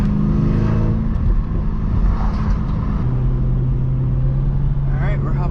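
A tuned Cadillac CTS-V drives up onto a freeway with a loud, steady low engine drone and road rumble heard from inside the car, a voice talking over it throughout.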